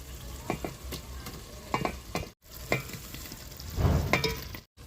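Chicken pieces frying in cooked tomato masala for chicken fry piece biryani, a soft sizzle broken by intermittent scraping stirs, moderately close and fairly quiet.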